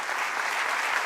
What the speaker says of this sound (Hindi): उनके लिए इतनी सी ताली आप बजा रहे हैं